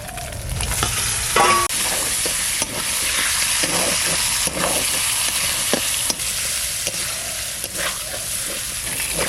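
Mutton frying in a pot for village-style mutton polao, a loud constant sizzle close by with regular scraping and clacking as the meat is stirred.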